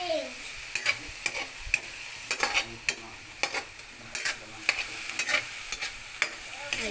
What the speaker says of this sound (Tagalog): ginisa ko na po yung giniling